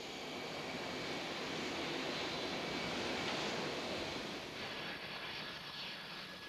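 A Boeing 777 jet, bought by Air France in 1998 and operating at Paris-Charles de Gaulle airport, roars with a steady, loud, broadband engine rush that holds constant throughout and fades only slightly near the end.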